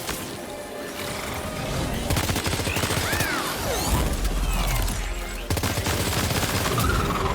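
Rapid continuous gunfire in Death Stranding 2 aimed at a large target piece, dense mechanical rattling and crackling bursts running nearly throughout, loud and close, with whooshing projectile sweeps layered on top.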